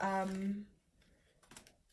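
Oracle cards being shuffled during a reading give a soft, faint papery riffle after a brief bit of talk.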